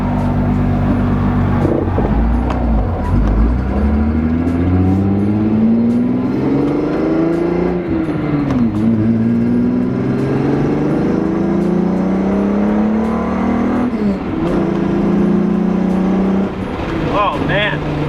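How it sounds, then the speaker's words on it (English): A car engine and exhaust drone steadily while driving in traffic, pitch rising and falling through several gear changes over a long stretch, heard from inside the car with someone talking over it. "You'll still be able to hear the fancy, the good old exhaust sounds here."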